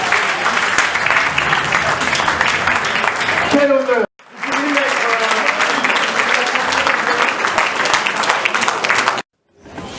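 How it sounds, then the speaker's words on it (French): A gala-night audience bursts into loud, sustained applause that fills the hall for several seconds, briefly cuts out, then swells again, with a voice speaking over it. "On l'applaudit bien fort."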